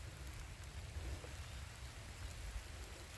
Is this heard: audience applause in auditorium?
no